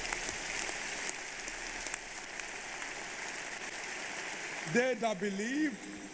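A church congregation applauding and cheering for the Lord, a dense continuous patter of many hands clapping with scattered whoops, and a voice briefly speaking near the end.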